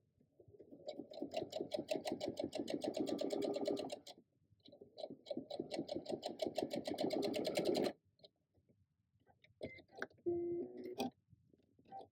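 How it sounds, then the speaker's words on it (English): A sewing machine stitches quilt fabric pieces together in two close, rapid bursts of mechanical chatter, each about three to four seconds long, followed by quieter clicks and handling noises. "I like to sew the 2 pieces together, the 3, so I can test that middle section"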